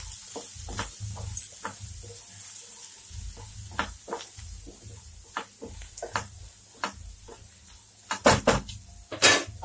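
Spices with spring onion curry are stirred in a pan, with a soft sizzle under repeated spoon taps and scrapes against the metal, growing into louder clanks near the end; no voices.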